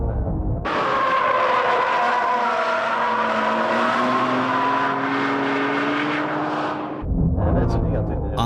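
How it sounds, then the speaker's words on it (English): A Honda NSX and a Nissan Skyline R32 GT-R race uphill on a winding hill course, engines wailing loud and close with rising pitch as they climb through the gears, while someone talks over the noise. "Right after the start on the first hairpin, the NSX is already losing its position"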